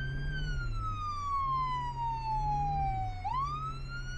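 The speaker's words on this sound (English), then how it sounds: "I'm going to turn my siren off now." Police car siren in the video game Flashing Lights, a loud electronic wail sweeping slowly down in pitch, then abruptly jumping back up near the end, over a low engine hum.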